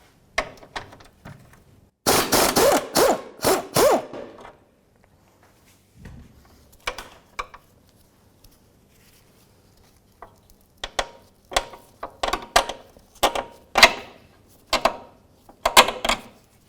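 A 17mm socket and wrench work a lower control arm bolt on a 2005-2009 Subaru Outback, giving bursts of rapid metallic ratchet clicks and clanks separated by quiet pauses, close by.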